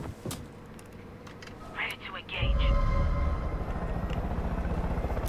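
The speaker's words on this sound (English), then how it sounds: "Let's use this helicopter to take out this outpost." A helicopter in the video game Far Cry 5 spools up into a loud, steady rotor drone and engine rumble that holds to the end, after a quieter start with brief clicks and beeps.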